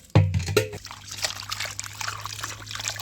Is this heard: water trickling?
yes